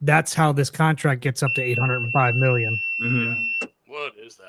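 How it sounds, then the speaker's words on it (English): Truck idle warning beep, a steady high electronic tone lasting about two seconds under and between lively conversation, ending abruptly before a brief pause and more talk. "beeps if it sits idle for too long."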